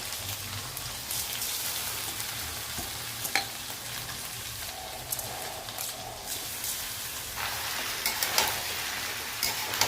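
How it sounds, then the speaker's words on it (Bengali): Rice frying in ghee and oil for pulao gives a steady, close sizzle that keeps going the whole time, with faint stirring clinks on top. "এবার চালটা ওই ঘিয়ের মধ্যে ভালো করে আমরা ভেজে নেব, তেল আর ঘিয়ের মধ্যে।"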